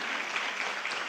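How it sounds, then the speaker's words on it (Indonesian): Brief burst of steady audience clapping for Tata at a networking seminar, moderately loud and continuous with no voice over it. "Tepuk tangan lagi nih buat Tata."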